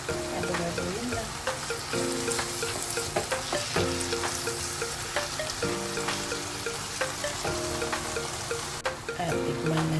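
Banana heart sisig sautés in a pan after a splash of fish sauce, a steady close sizzle overlaid with repeated scraping and clattering stirring strokes.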